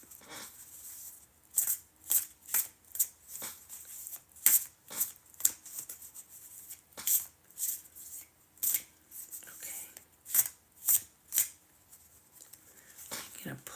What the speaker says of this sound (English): I'll mix them up